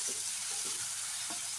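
Garlic and green chili paste sizzles in hot oil for a dried fish shutki jhal bata, making a soft, steady frying hiss with a few low stirring thumps. The sound is fairly quiet and nobody talks.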